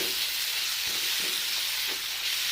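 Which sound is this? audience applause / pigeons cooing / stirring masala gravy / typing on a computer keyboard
stirring masala gravy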